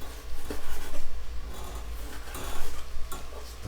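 A knife cuts thin slices of ribeye steak on a board, giving a series of soft, close, repeated cutting strokes in an uneven rhythm with a low background rumble.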